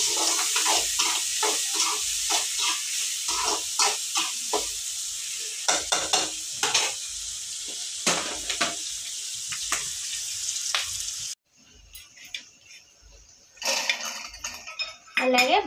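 Sliced onions with turmeric and salt are stirred in a frying pan, a steady sizzle with frequent close scrapes and clinks of the spoon against the metal, then quieter kitchen clatter near the end.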